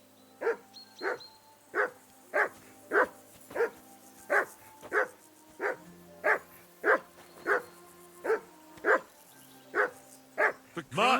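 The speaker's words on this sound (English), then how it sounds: "That barking was a pain in the ass." A dog barks over and over in Kingdom Come: Deliverance II, about sixteen loud, close barks at a steady, insistent rhythm.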